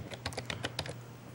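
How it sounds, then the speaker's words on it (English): Quick, light clicks of a computer keyboard as commands are entered, about eight close keystrokes in an irregular burst, then quiet. "Now press the up arrow key to call back the command."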